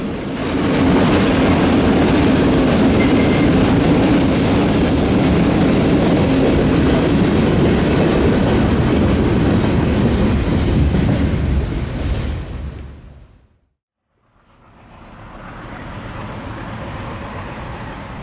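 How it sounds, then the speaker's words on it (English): Delaware Lackawanna freight train with ALCO locomotives rolls past close by, a loud steady rumble with clattering wheels and rail noise that suddenly cuts out, then resumes more softly. "the train rolls by just as we arrived"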